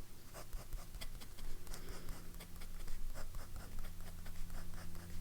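A broad-nib TWSBI fountain pen loaded with wet, juicy ink scratches steadily across paper, a close, continuous papery rasp with small rhythmic strokes throughout.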